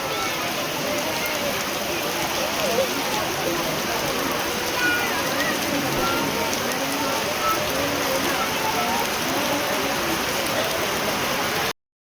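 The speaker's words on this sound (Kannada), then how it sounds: "ಜೋರು ಮಳೆ." Heavy rain pours down steadily, a dense, even hiss of drops pattering on surfaces, loud and close throughout.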